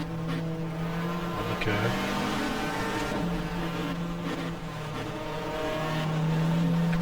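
Race car engine in the GTR2 racing game at Winton in a 1994 Australian Manufacturers Championship race, a loud sustained drone shifting pitch through gear changes, with a voice speaking briefly over it.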